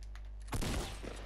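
Gunfire in the Fortnite video game, with a single loud burst of shots breaking in about halfway through and a short decaying tail after it.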